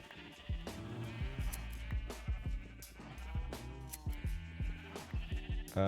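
Several sheep in the video game Minecraft bleat over and over in a dense, uneven chorus, the repeated calls overlapping and sounding close and clear.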